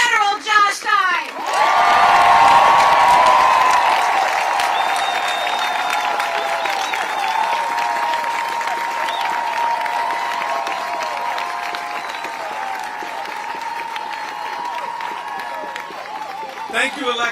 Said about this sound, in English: Please give me a warm round of applause for Attorney General Josh Stein